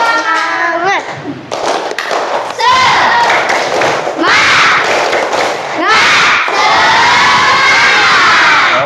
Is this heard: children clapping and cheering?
yes